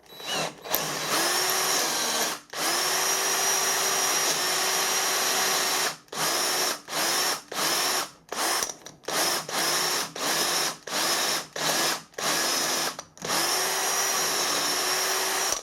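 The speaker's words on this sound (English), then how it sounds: "We've got the depth set on the drill" A power drill, depth set and following a guide, bores a stud hole, whining loudly in long bursts, then stops and starts in a rapid series of short pulses, close up and without speech.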